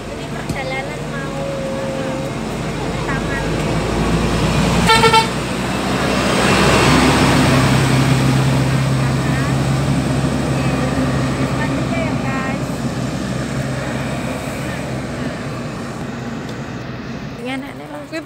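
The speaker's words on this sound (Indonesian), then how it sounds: "Dalam bis ya guys." Inside a moving bus climbing a mountain road near Tai Tong, Yuen Long, Hong Kong, a steady low rumble and hum swells in the middle and then eases off, with faint voices at times.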